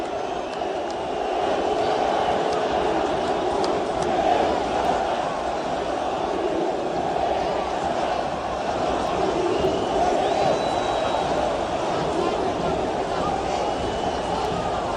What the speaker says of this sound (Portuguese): Pode vaiar, vaia mesmo. Esse time merece todas as vaias.